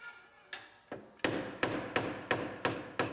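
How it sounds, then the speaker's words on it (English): A hammer strikes the floor panel of a wrecked Honda Civic Si body, about eight sharp metallic blows in a quickening rhythm, each ringing briefly before the next. "we'll hammer on the floor for a little bit."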